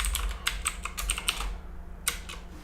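Rapid keystrokes on a computer keyboard as a password is entered, a quick uneven burst of sharp clicks, a short pause, then a few more taps, close and clear with no talking.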